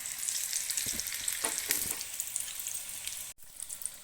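Karaikal puri made from maida dough frying in hot oil: a steady, close, dense sizzle with fine crackling throughout and one momentary dropout near the end.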